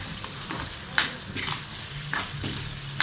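Onions sizzle steadily in a pan while a utensil stirs them, with a few scraping clicks and soft clatters over the constant frying hiss, close and moderately loud.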